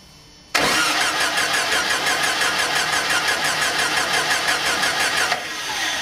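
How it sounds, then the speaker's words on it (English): A VW air-cooled engine cranks over on the starter during a compression test, a sudden loud onset followed by a fast, even rhythmic chugging of about five seconds before the starter drops away into a lower hum. "I'm going to roll the motor over."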